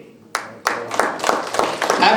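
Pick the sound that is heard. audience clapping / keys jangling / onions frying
audience clapping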